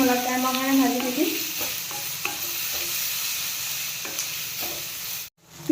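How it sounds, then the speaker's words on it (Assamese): Onion fries in hot oil with cumin and fenugreek seeds in a pan, giving a steady close sizzle, with brief tonal squeaks at the start and repeated scrapes of stirring, before a sudden pause. "পিঁয়াজখিনি অলপ টাইমৰ কাৰণে ভাজি দিম"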